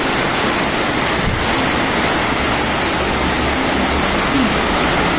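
Heavy rain pours steadily outside a house with gusting wind, a dense, continuous roar of broadband noise that holds unbroken at full strength throughout.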